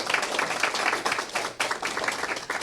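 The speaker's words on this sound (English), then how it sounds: "She deserves a round of applause" Audience applause at a retired educators' meeting in Sheridan Township, Michigan, a steady dense patter of many hands clapping that sustains at even volume throughout, with a brief dip partway through.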